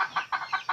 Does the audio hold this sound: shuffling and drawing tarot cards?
no